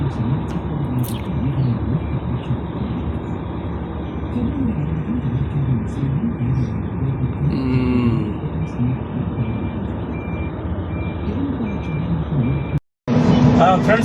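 A company truck runs steadily while being loaded with soil at a site next to forest land, with a continuous engine rumble, a brief beeping, and people talking over it.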